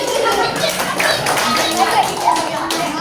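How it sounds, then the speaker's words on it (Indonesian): Schoolchildren in a fifth-grade classroom clap for a presenting group, a dense, steady patter of many small hands filling the room, loud and continuous with faint voices mixed in. "Wah, tepuk tangan untuk Anda."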